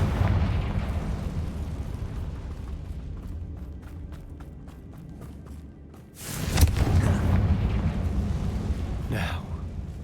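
A Confringo blasting spell bursts in a Hogwarts Legacy battle, one sharp loud blast after a stretch of rumbling combat noise, with a smaller crack following moments later.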